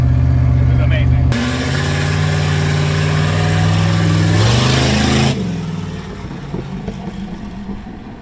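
A 1955 Buick with a straight exhaust driving, giving a loud, raw engine drone that holds and climbs under throttle for about four seconds, then drops away suddenly to a quieter background.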